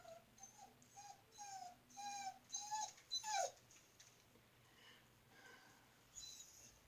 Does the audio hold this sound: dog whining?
yes